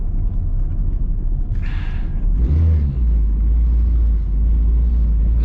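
Steady low road rumble of highway traffic with cars and trucks, a close vehicle swelling past midway through, loud and continuous with no talk.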